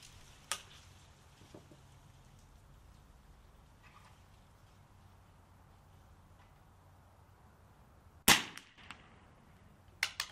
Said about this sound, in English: There's something strange about seeing a small pop out of a rifle, where a large puff of smoke and heavy recoil are expected